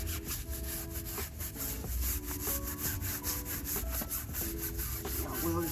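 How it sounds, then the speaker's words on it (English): A brush scrubbing a dirty surface treated with cleaner, close rhythmic rasping strokes going back and forth continuously, with no voice over them. "we're about to scrub it and see, you know, how well this stuff comes off"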